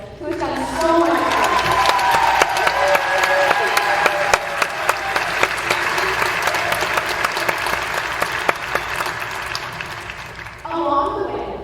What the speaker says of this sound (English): Please join me in a round of applause for our beloved Mr. Curtis Douglas